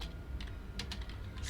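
A command being typed on a computer keyboard, a quick run of close, crisp key taps in an irregular rhythm with no talk.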